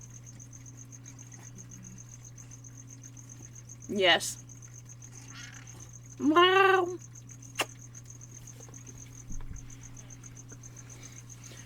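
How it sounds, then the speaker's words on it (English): Faint, steady cricket chirping pulses evenly in the background throughout, while a couple of short exclamations from a person break in. "You're also going to be hearing crickets in the background constantly"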